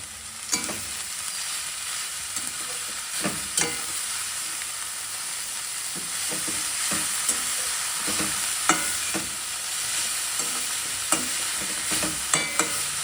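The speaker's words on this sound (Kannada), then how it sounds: "ಈಗ ನೋಡಿ, ಸಬ್ಸಿಗೆ ಸೊಪ್ಪು ಮತ್ತು ಕ್ಯಾರೆಟ್ ಹಾಕೋತಾ ಇದ್ದೀನಿ." Dill leaves and carrot fry in a pan with a continuous close sizzle, broken again and again by sharp scrapes and taps of a spatula as they are stirred, and no one speaks.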